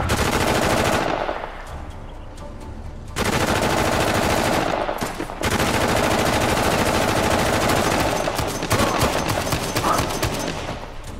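Heavy gunfire from new weapons in the Uncharted: The Lost Legacy action game, sustained loud bursts of automatic fire with short lulls between volleys and rapid rattling shots near the end.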